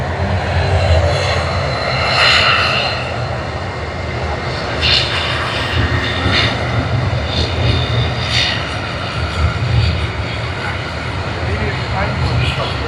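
A DHL cargo aircraft at Sydney Airport gives a steady, fairly loud engine roar that swells and fades slightly, with a voice talking over it throughout.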